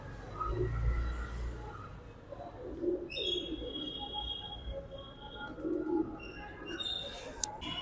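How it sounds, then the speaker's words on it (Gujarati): Soft, low cooing of many pigeons at a cow shelter repeats a few times at a modest distance, with faint chirps and a quiet ambient background. "જો કબૂતર જો કેટલા બધા છે."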